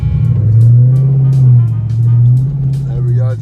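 Dodge 392 engine droning steadily close up as the car drives, a low continuous rumble with slight swells, heard from inside the cabin with no voices.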